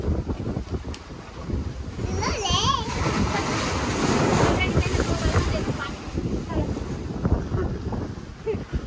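Sea waves wash on Alibag beach under strong wind buffeting the microphone, a steady rushing surf with splashes while children and adults talk and shout nearby.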